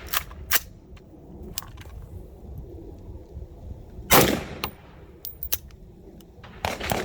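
AR-47 rifle with a Seekins Precision adjustable gas block fires a single sharp, loud round at mid-clip, set among fainter clicks and handling noises.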